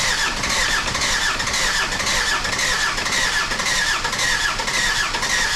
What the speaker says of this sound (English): I had to keep on trying to crank this engine over, and that didn't end well.